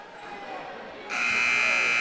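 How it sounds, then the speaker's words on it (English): A loud electronic buzzer cuts in abruptly and holds steady at a high school volleyball match in a gym, sounding over low crowd murmur and a voice. "Buzzer sounds back at the hangar."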